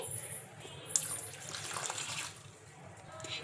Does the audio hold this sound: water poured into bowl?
yes